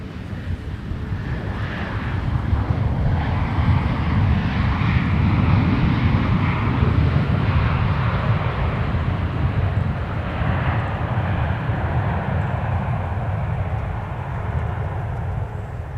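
Boeing 737-900ER airliner landing at Minneapolis–St. Paul Airport, arriving from Salt Lake City: a steady, broad jet roar holds loud and even throughout, swelling slightly mid-way with no talk over it.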